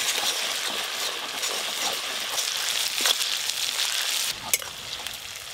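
Ginger-garlic paste frying in a pan with softened chopped tomatoes: a steady, close hiss and sizzle with small crackles and a couple of faint clinks or stirring knocks, no voices.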